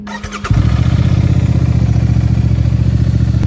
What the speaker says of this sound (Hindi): कोल्ड स्टार्ट कर लेते हैं एक बार।